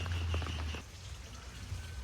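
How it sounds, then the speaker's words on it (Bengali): Rain falls steadily near a pond beside flooded land, a continuous soft hiss with a fuller patter in the first moment before it eases slightly, with no voices. "আগের থেকে বৃষ্টিটা একটু ধরেছে"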